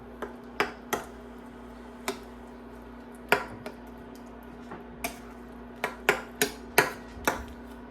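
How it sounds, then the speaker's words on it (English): A spoon or spatula working seasoning through meat for tacos in a cooking pan, producing a series of sharp, close knocks and taps against the pan at an uneven rhythm over a faint steady hum. "you're just mixing all that seasoning in with all the meat"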